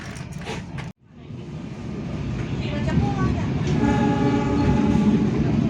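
Passenger train rolling through a station without stopping, a steady loud rumble of wheels and carriage noise building after a brief gap, with faint tonal squeals over the continuous roar.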